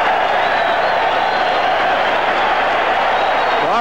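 A crowd of around 17,000 roars at a 1973 New York boxing bout between Jerry Quarry and Ron Lyle, a dense, sustained wash of cheering and applause with an announcer's voice partly audible over it.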